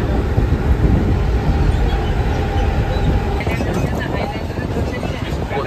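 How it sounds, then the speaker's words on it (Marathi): Inside a fast Mumbai local train running from Thane toward CST, a loud, steady rumble and rattle of wheels and carriages fills the whole stretch. "मग ठाणा स्टेशनवरून फास्ट ट्रेननी जाईन"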